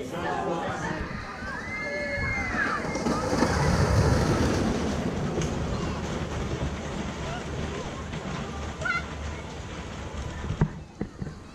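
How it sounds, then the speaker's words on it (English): A small roller coaster, Antelope at Gulliver's World in Warrington, rumbles and rattles along its track with steady wind buffeting, loud and close throughout, with riders' voices mixed in and a few sharper knocks near the end. "it's probably the most fun I've had on a little coaster like this"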